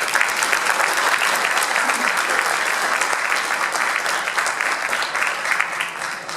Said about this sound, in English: I want to ask you to give yourselves a round of applause